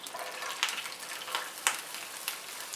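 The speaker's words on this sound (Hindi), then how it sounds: "पैन में डालेंगे 2 से 3 टेबलस्पून ऑयल और एक छोटी चॉप प्याज।" Chopped onion frying in two to three tablespoons of oil in a pan over a flame, a steady soft sizzle with small crackling pops, close and fairly quiet, no talking.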